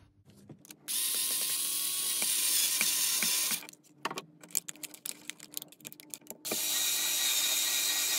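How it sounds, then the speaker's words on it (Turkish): Screws driven in to fasten the front cover of a small homemade electric stove: bursts of steady whirring from a power driver alternate with a stretch of rapid clicking and tapping, then whirring resumes, all close and loud with no talk. "Şöyle yukarıdan ve aşağıdan birer tane vidayla tutturursam yeterli korumayı sağlayacaktır bu."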